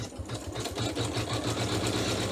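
An embroidery sewing machine stitches a design held in a hoop, making a steady, close, rhythmic mechanical whirring and clatter that runs throughout with no speech.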